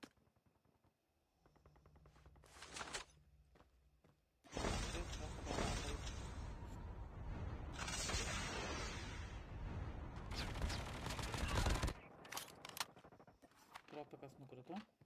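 Call of Duty gunfire on the Alcatraz map during a tournament match, short bursts early, then a long loud stretch of rapid shots and shattering impacts, with a player talking in between.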